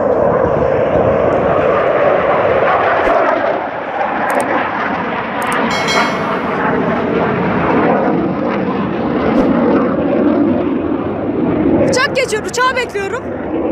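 A fixed-wing airplane drones overhead as a steady broadband roar that persists loudly through the whole stretch, with people talking over it outdoors on a cold day.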